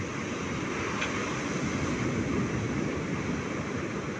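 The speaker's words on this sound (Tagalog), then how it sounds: "Sobrang lakas po ng alon mga idol." Strong ocean waves during a typhoon, a continuous roar of surf mixed with wind noise, steady and fairly loud, with no talk.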